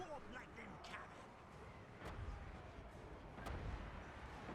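A warp lightning cannon fires in the video game Total War: Warhammer, giving a few sharp cracking discharges over a low rumbling battle bed, fairly distant and set against faint background noise.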